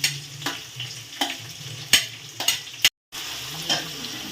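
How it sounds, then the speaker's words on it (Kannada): Onions fry in a pan with tomato and turmeric, a soft steady sizzle punctuated by several sharp scraping clicks of a stirring spoon and a brief dropout before the sizzling resumes. "ಈರುಳ್ಳಿ ಚೆನ್ನಾಗಿ ಫ್ರೈ ಆಗಬೇಕು"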